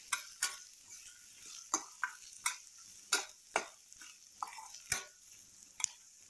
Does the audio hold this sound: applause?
no